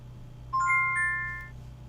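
A timer chime during an art class gives a single bright electronic ding with a couple of overlapping tones that ring out for about a second over a low steady hum.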